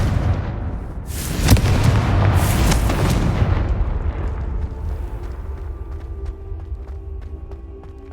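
The Confringo blasting spell in Hogwarts Legacy detonates in a loud, deep explosion with two sharp booming bursts, then a rumbling tail that slowly fades away.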